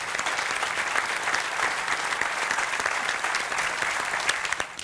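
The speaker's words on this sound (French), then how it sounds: "On peut vous applaudir." Audience applause in the Corte town centre, a dense, steady wash of many hands clapping at a moderate distance, holding evenly for about five seconds without a break.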